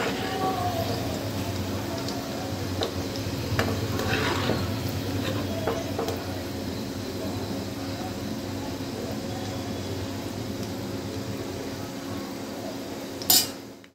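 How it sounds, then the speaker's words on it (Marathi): Okra (bhindi) shallow-frying in hot oil in a pan, a steady low bubbling hiss with occasional metallic clinks of a utensil against the pan near the end. "आता मी ही काढून घेते आणि दुसरी भेंडी मी अशीच फ्राय करून घेते।"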